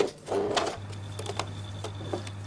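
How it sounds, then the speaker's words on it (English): A sewing machine runs steadily at close range, top stitching right along the edge of a garment shell and lining, its even mechanical hum continuing under a few light clicks. "Try to top stitch very close to the edge."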